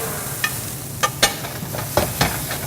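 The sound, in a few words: vegetables sizzling while frying in a pan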